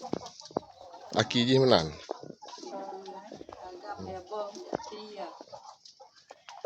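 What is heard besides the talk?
Siamese chickens clucking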